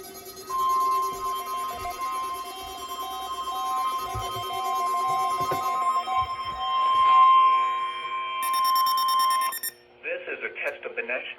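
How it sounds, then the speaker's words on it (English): NOAA Weather Radio warning alarm test tone: a long, steady, loud tone sounding alone for about nine seconds, with a broadcast voice starting at the very end. "This is a test of the National Weather Service NOAA Weather Radio Warning Alarm System."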